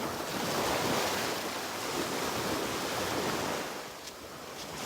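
Steady broadband rush of surf washing in on an island's rocky shore, with wind noise over the microphone; continuous and fairly loud, easing slightly near the end.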